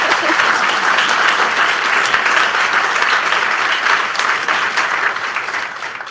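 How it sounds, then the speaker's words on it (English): A library event audience in Brooklyn applauds for a woman named Maureen, with dense, sustained clapping from a large crowd that gradually fades toward the end. "you can applaud for Maureen"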